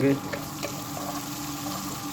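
Chopped onions sizzle in a pan and are stirred and mixed, with a short scrape at the start, then a soft, steady frying hiss under faint background noise.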